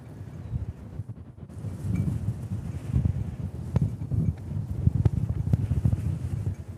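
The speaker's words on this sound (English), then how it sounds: "As you might be able to hear by the wind, it is very windy again today." Strong gusty wind at a Honolulu airport planespotting spot buffets the microphone with low, uneven rumbling that swells and eases throughout and never drops away.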